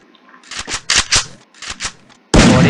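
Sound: Draco M1014 shotgun firing in a video game

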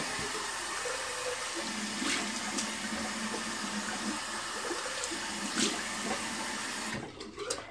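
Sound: water running in sink for rinsing after shaving

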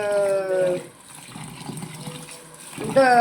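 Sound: water washing bhagar (barnyard millet) grains

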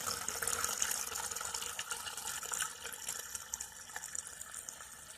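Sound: pouring lemon water in silver refining

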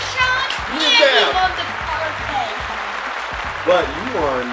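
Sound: applause for the cupcake challenge winner

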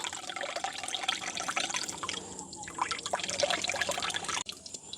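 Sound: water draining from squeezed flour dough

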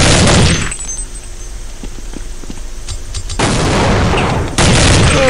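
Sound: gunshots in the video game Counter-Strike 1.6

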